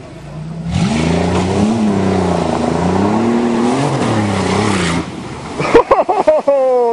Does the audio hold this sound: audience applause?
no